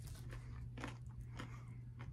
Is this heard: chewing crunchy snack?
yes